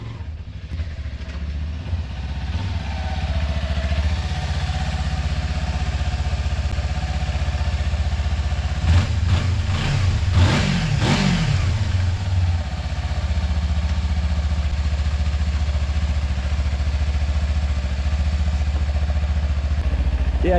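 A motorcycle engine idles steadily and loudly close by on a cold day, then revs in a quick cluster of throttle blips before settling back to a continuous idle.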